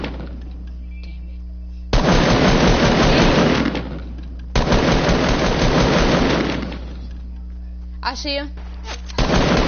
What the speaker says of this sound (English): Bro, I'm getting shot at.